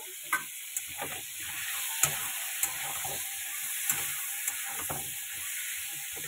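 Food fries in a pan with turmeric and salt in a home kitchen, a low, steady sizzle and hiss broken by sharp clicks of a spoon striking the pan every second or so.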